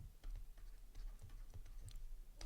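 Steady run of computer keyboard keystrokes as JavaScript code is typed, quick irregular clicks close to the microphone with no voices, continuing throughout.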